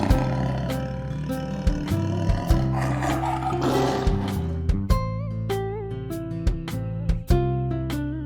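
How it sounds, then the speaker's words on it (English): A cartoon lion roars within a children's nursery rhyme, a sustained growling roar over bright sung music with steady plucked and percussive accompaniment throughout. "If you see a lion, don't forget to roar."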